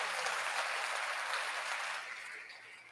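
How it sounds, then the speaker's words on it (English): A studio audience at a Portuguese morning show applauds, a dense wash of clapping that holds steady and then fades toward the end. "Let's give that a round of applause."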